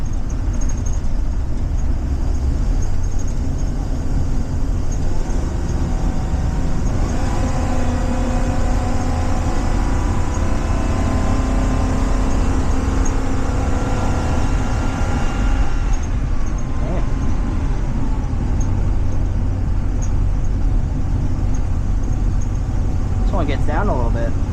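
A 2023 Blue Bird Vision school bus with a brand-new engine drives under heavy throttle in third gear, giving a steady, loud engine drone and road rumble throughout, with harmonic tones shifting as the torque converter locks; someone talks over it.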